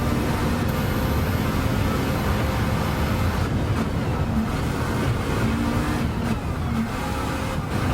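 A race car spinning out on a track in Gran Turismo 7, its engine droning loud and steady throughout with tire and drivetrain noise shifting as the car rotates, no talk over it.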